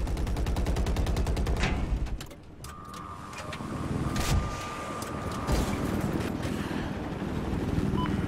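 Gunfire at an enemy in a video game opens with a rapid burst of shots, then scattered single cracks and mechanical clicks come and go over a low rumbling background.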